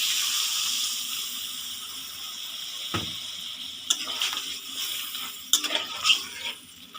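Water pours into a pan of keema chana masala curry, a soft steady hiss and trickle with a few splashy bursts near the end, no voices.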